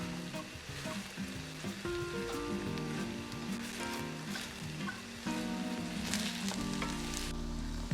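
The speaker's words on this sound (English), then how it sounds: "Our vegetables and our meat are cooking nicely together." Beef and vegetables fry in a pan with a soft, continuous crackling sizzle and occasional stirring, set under tonal background music.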